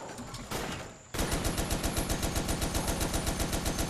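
Turret gunfire in Toy Soldiers: War Chest: after a short muffled lead-in, a rapid, steady stream of loud, evenly spaced shots runs on without a break.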